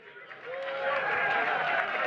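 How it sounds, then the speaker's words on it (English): Applause from an audience at a Wright Museum event with the pioneer of P-Funk, a steady wash of clapping and crowd noise that swells and holds for about two seconds, fairly close and full. "let's give a round of applause to the Wright Museum"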